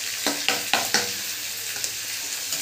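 Spice masala of chilli powder, turmeric, salt, coriander powder and chopped tomato sizzles in a pan. Four sharp spatula scrapes come in quick rhythm at first, then lighter stirring over a steady fry.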